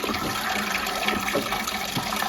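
Water runs steadily from the tap of a black plastic garden water butt outdoors, a continuous close splashing stream that keeps an even level throughout.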